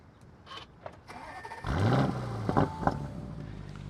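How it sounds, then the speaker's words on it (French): Mansory-modified Lamborghini Urus engine starting up: quiet clicks, then the starter catches and the engine fires with a rising surge about halfway through, settling into a steady, close idle with small revs. "après avoir démarré le moteur et vous montrer un peu l'échappement"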